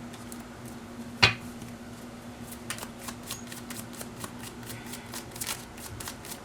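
Tarot cards being shuffled by hand, a steady papery riffling that runs throughout, with one sharper tap near the start, close and fairly quiet.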